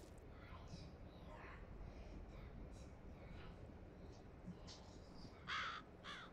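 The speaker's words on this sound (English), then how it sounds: "It's a crow." Crow in the horror shooter video game F.E.A.R.: a single faint caw near the end rising out of a steady, hissing ambient background, distant and brief.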